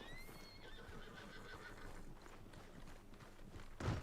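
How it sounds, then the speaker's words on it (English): A horse in the video game Red Dead Redemption 2 gives a high whinny, then its hooves clop in a quick steady rhythm, with a louder thump at the end. "gonna mount that new horse of yours or not?"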